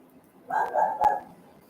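A dog barks outside, heard as a short burst of two or three muffled barks at a moderate distance in an otherwise quiet indoor room.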